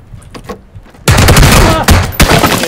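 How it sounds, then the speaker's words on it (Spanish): Gunfire in PUBG (PlayerUnknown's Battlegrounds), a sudden loud volley of close shots breaking in after a quieter moment of brief voices and sounds, with a second sharp burst near the end. "me disparaban desde la casa"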